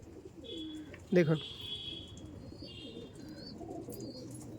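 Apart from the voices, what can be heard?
Oman Teddy pigeons cooing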